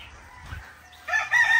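Chickens at a game farm crow and cluck, with louder fowl calls rising sharply in the second half over a low rumble.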